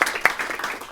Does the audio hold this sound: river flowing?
no